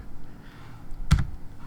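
A single sharp press of the Enter key on a computer keyboard, one close, crisp click against quiet background, with no speech.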